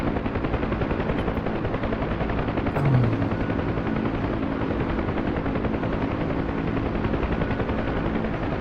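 A Kiowa helicopter flying in, its rotor and engine a dense, steady loud drone with rapid chopping texture throughout.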